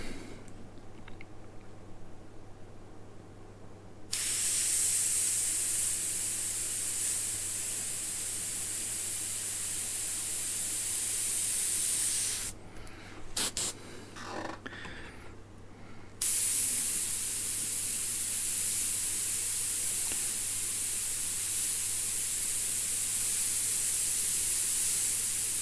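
An airbrush sprays paint in long, steady hissing bursts, close to the mic, with a brief pause and clicks midway before the spraying resumes.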